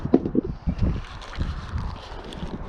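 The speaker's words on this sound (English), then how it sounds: "It's windy, guys, I'm sorry." Wind buffets the microphone in low rumbling gusts outdoors in West Texas, with irregular thumps early on and a steady blustery roar throughout.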